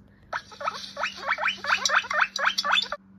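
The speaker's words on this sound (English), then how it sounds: "A guinea pig goes." A guinea pig gives a rapid series of sharp, high squeaks, about ten in a row, close and fairly loud against a faint steady hum.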